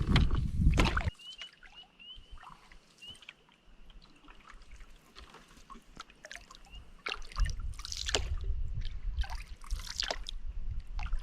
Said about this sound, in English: the sound of the water hitting the boat